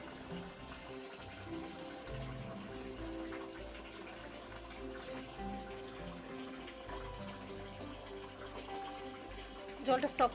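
Spring water runs in a faint, steady trickle at the Garden of Caves in Cherrapunji, Meghalaya, a soft continuous flow with a few splashy drips near the end, heard under quiet nearby speech.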